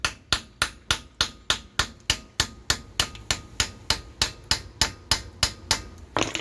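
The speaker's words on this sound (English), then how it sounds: "If I just go with those grooves and just hammer it by hand" Rapid, evenly timed hand-hammer strikes on a car metal part during CV boot replacement, over twenty ringing blows in a steady rhythm, loud and close.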